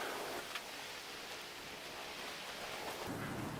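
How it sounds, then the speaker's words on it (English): Steady heavy rain and rushing wind roar outside, a continuous broadband wash with a faint low rumble, no voices. "It is blowing a gale outside"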